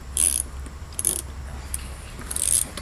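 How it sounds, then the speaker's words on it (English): A socket set ratchet clicks close by as a nut is turned on a lawn mower, three short bursts of rapid ratcheting separated by brief pauses, quiet in between. "So we are turning it to the right. Love that socket set sound."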